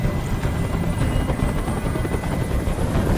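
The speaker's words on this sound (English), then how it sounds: "Tell that helicopter to get out of here." Loud, steady helicopter rotor thrum in Detroit: Become Human, a continuous close throbbing roar that dominates throughout with no voices over it.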